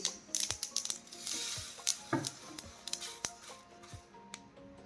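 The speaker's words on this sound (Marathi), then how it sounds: "कसा आवाज येतोय बघा मस्तपैकी असं ही तीळ भाजून" Sesame seeds roast in a hot pan, giving a quiet, close crackle of sharp, scattered pops and ticks against a faint sizzling hiss.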